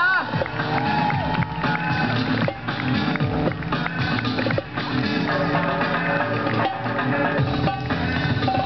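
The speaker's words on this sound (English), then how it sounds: "Give them a round of applause." A crowd at a county fair parade cheers, whoops and claps in a busy, continuous wash of noise, with scattered shouts and music-like tones mixed into the din.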